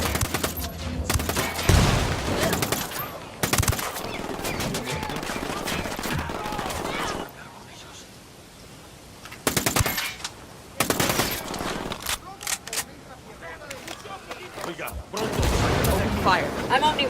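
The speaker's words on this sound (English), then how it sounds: "I'm opening fire on these shitheads" Gunfire in the Ghost Recon Wildlands video game, repeated loud bursts of automatic weapon fire with short gaps and a quieter lull in the middle, voices speaking between shots.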